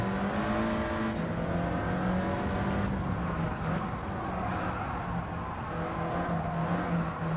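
Steady droning race car engine in the video game Gran Turismo 7, holding a constant pitch that drops slightly as it shifts from third to fourth to fifth gear, continuous and fairly loud, with no voices over it.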